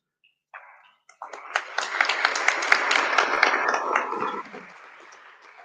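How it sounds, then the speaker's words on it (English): Audience applause at a live Kiswahili Language Day 2025 event: a brief lone sound, then a thick burst of clapping that holds for about three seconds before thinning and fading. "I would invite you to give her another round of applause"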